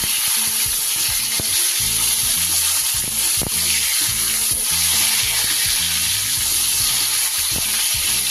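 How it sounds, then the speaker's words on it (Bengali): Flour-coated loitya fish fry in a pan of hot oil, giving a loud, steady sizzle throughout with occasional sharper pops and clinks of turning. "এইভাবে ময়দা মাখিয়ে নিয়ে করলে কিন্তু সুন্দরভাবে মাছগুলো ভাজা হয়ে যায়"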